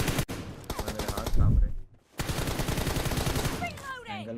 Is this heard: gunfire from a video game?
yes